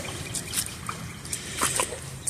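A small backyard river trickles and dribbles over a shallow bed, with soft, irregular splashes and bright drips close by over a faint low background, and no one speaking.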